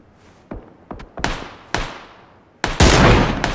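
PUBG gunfire cracks out in a handful of separate sharp shots, some nearby and loud, others thinner and more distant, ending in a heavy, sustained burst.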